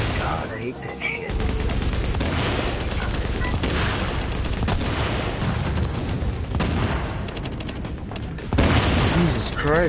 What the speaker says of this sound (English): there's so many goddamn explosions